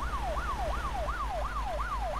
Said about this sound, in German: Mit Sirene sogar.